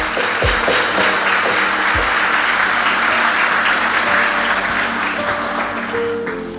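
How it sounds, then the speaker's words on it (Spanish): A church congregation bursts into applause, dense clapping that fills the room and slowly tapers at the end, with a few low thumps and a faint tone underneath. "¿Cuántos aplauden al Señor?"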